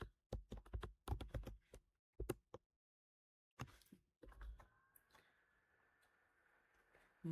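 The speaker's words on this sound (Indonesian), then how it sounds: "Pertama kita ketik di terminal" Bursts of quiet clicking keystrokes on a computer keyboard as a command is typed into a terminal, uneven rapid taps with pauses, close and faint, followed by a low hum.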